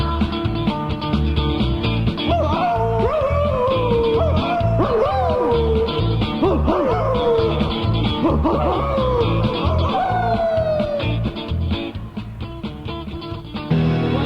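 Several people imitating dogs with their voices, a busy run of yips, barks, whines and rising howls over a steady rhythmic musical backing, loud and close for most of the stretch.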